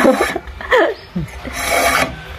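Bamboo strips are scraped by hand with a blade in several short, rasping strokes, close and fairly loud, with irregular pauses between the strokes.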